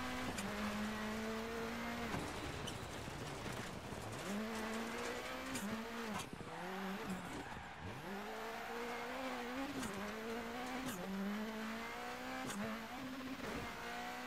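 An Audi rally car tears along a gravel stage in Dirt Rally 2.0, its engine revving hard and continuously with repeated gear-shift dips and rising pitch sweeps, loud and close throughout with occasional tire noise.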